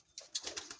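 A single pigeon coos softly and briefly at close range, a short run of muted, breathy notes without other sounds.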